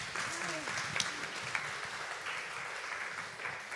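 A Korean church leadership training audience breaks into applause, a steady wash of clapping at moderate volume that stays even and fairly distant throughout, with a few murmuring voices mixed in.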